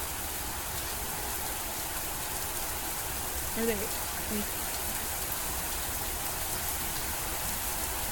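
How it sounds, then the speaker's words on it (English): Heavy rain hisses loudly and without a break in the Mamiya video game, a dense, even downpour that lasts throughout, while a voice speaks briefly underneath it near the middle. "The rain is so loud!"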